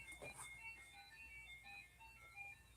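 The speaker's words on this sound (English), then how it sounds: "As I literally hear the ice cream truck outside going off." Faint tinkling melody of an ice cream truck jingle playing in the distance, repeating over low background noise.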